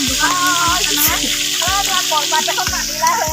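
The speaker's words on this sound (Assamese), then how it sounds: "এয়া মাছ ভাজি আছে" Oil sizzles steadily as fish fries in a pan, with occasional clinks and a voice talking over the continuous crackle.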